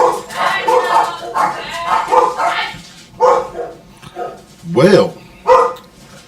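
A dog barks loudly nearby in a few sharp bursts, with people talking over and between the barks.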